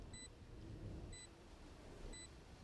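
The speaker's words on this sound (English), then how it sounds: "as the beeps get faster, the likelihood of victory gets slimmer" A planted spike in a Valorant esports match gives three evenly spaced high electronic beeps, about one second apart and fairly faint, over a low game background rumble.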